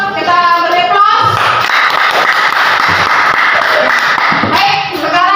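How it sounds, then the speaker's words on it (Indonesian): Audience applause for group 1 after a classroom presentation, a dense, steady burst of many hands clapping that swells after a second and holds for about three seconds before tapering off. "Terima kasih kelompok 1. Kita beri aplaus."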